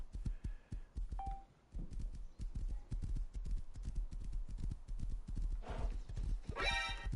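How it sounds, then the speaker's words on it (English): Horse hooves clip-clop in a steady, even rhythm in the video game Rust, with a couple of short whinnies and a brief rising neigh near the end, all fairly close and clear. "How do you keep a horse in rust?"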